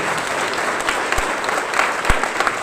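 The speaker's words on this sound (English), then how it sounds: "So one big hand for all these 12 students." An audience at a CBSE regional adolescent summit applauds performing students, a full, even roar of many hands clapping with a couple of sharper thumps, sustained throughout and close.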